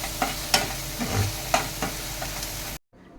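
Onion, garlic and green chili sauté in a pan with a low sizzle under several sharp spatula scrapes and clacks, spaced roughly half a second apart, before the sound cuts off abruptly near the end.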